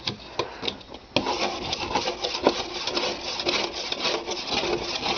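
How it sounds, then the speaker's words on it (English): A small scraper rubbing dirt off eggshells, with repeated rasping, scratching strokes close by and a few sharper clicks as the tool catches the shell; no talking. "just take your little scraper and"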